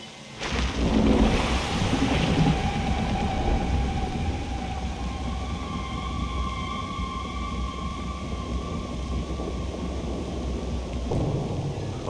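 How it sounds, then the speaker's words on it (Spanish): Heavy rain grows stronger in the video game Cocoon, a steady loud wash with deep rumbling underneath and faint tonal whines running through it. "Uy, la lluvia se intensificó."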